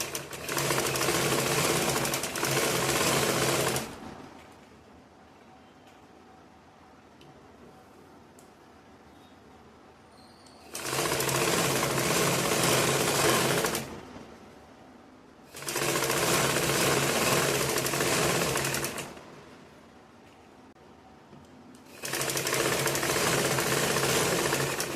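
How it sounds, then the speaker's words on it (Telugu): Sewing machine stitching the back part of a lined blouse: loud, steady motor runs of several seconds each, broken by quieter pauses, repeating four times with no talking. "సూదిని ఇలా తిప్పి పైకి ఎత్తి ఈ విధంగా ఇలా తిప్పుకొని స్టిచ్ చేసుకోవాలి."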